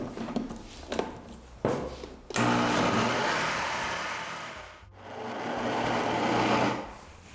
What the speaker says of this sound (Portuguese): a massa tá um pouquinho pesada pro liquidificador